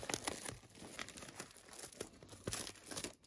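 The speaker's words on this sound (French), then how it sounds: "je vais juste enlever ce plastique qu'il y a dessus" Cellophane plastic wrapping is crinkled and torn off a pair of 1960 AEG lamps, close crackling and rustling in irregular bursts with sharper crunchy peaks, no voices.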